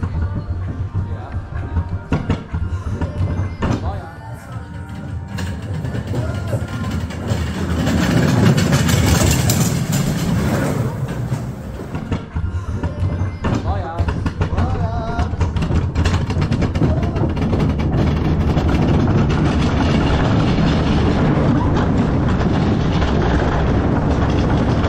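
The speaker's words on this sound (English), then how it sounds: "let's enjoy our 44 seconds of the Olympic bobsleigh ride" An Olympic bobsleigh runs down the ice track in Riga, Latvia, with a sustained loud rumbling roar that swells midway and stays dense throughout, overlaid by faint scattered voices.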